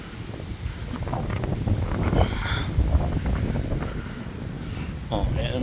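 Strong cold wind blows across a wooded hillside outdoors, buffeting the microphone in a steady roaring rush with gusty swells, while a person talks over it.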